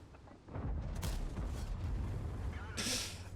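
Tank cannon fire from the T110E5 tank in World of Tanks, with two sharp booming blasts a couple of seconds apart over a rumbling background, loud and close, with a voice present.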